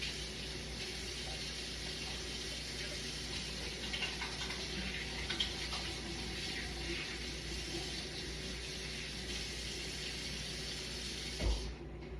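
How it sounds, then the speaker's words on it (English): Hands are washed under a running kitchen tap, a steady hiss of water that continues throughout, with a small bump or clunk near the end. "Let me wash my hands first."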